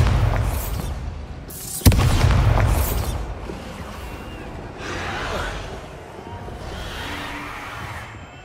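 A Bombarda blasting spell explodes in Hogwarts Legacy, a sharp booming burst with a broad rumbling tail, followed by quieter whooshing magical effects, with no talk.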